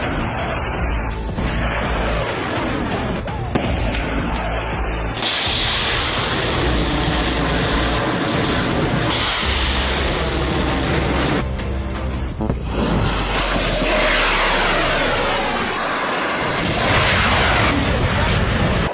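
Missile and drone strike explosions in Bahrain, a loud, dense rumbling barrage of repeated blasts and booms running continuously, with heavy low-end roar and scattered sharper impacts throughout.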